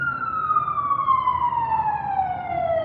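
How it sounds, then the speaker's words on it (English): A wailing emergency siren, steady and fairly close, sliding gradually lower in pitch as the vehicle passes, with road rumble underneath. "I'll let the sirens pass."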